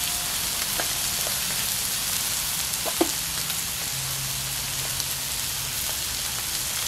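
Salmon and whiting fish sizzling steadily on a Blackstone griddle, a loud, continuous hiss like rain with occasional small pops and a light scrape.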